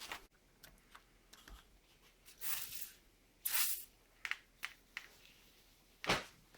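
WD-40 is sprayed onto seized brake parts of a Ford F250, heard as a few short hissing bursts from an aerosol can, close by, separated by quiet stretches and small clicks over a faint background hiss.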